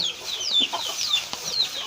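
Chickens being fed on a small mixed farm cluck softly and chirp, with quick high peeps from several birds over a quiet outdoor background.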